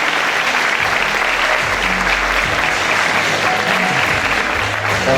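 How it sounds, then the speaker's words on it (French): Loud, sustained applause from an audience at a Miss Somme 2018 beauty pageant evening, dense clapping filling the hall without a break. "vous pouvez encore les applaudir bien fort"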